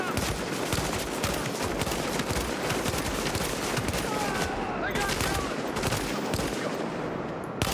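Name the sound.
gunfire shooting a generator in The Division 2 video game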